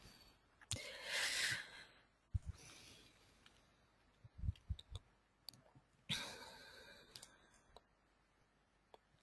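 A computer mouse clicks several times, with sharp isolated taps spaced irregularly across a quiet room, mixed with some breathy rustling noises in between.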